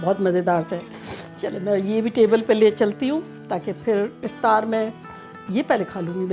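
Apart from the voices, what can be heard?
No distinct noise like a dog, phone or traffic.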